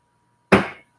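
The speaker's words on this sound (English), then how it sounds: "That is the sound of the non-alcoholic wine." A single sharp knock, like a glass bottle of non-alcoholic wine set down hard on a surface, followed by a brief ringing decay and then silence.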